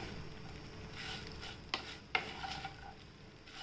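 Mini idli being stir-fried in a pan with masala, a soft steady sizzle broken by a couple of sharp clinks of a spatula against the pan.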